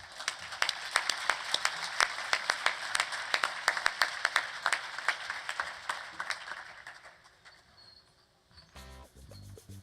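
Audience applause for award recipients called to the stage at a space station research awards ceremony: a burst of many hands clapping that gradually thins out, followed by a quieter stretch as the clapping fades.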